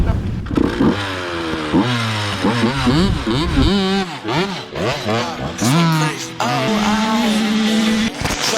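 Yamaha YZ 125 two-stroke dirt bike engine revving and accelerating across a field, loud close rising and falling pitch sweeps through gear changes, with music and speech mixed over it.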